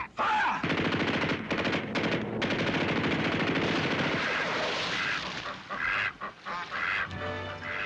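Rapid machine-gun bursts and rifle fire in a 1962 war TV drama, loud dense clatter for several seconds, then breaking into scattered separate shots and echoes as it thins out.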